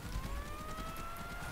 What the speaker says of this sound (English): Oh, that siren's coming from that sniper nest over